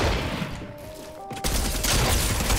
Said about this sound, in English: somebody's got a flare gun they're shooting off